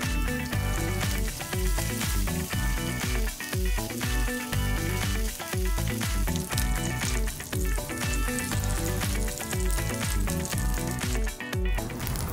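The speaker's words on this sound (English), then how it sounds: "all you need to do is sear off your pork belly" Pork belly sears in a pan for Chinese braised pork belly bao, giving a steady sizzle that runs the whole time under loud rhythmic background music.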